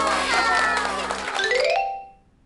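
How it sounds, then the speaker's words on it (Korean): A cartoon elementary school class clapping for Minji after she reads her poem, a busy burst of children's applause that stops abruptly partway through and leaves a short musical tail. "자, 모두 민지에게 박수."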